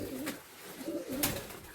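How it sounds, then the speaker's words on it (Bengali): Pigeons of an old Madras breed coo in a loft, two soft rolling coos close by over low background noise, with a brief sharper bird note between them. "এই দেখুন পায়রা"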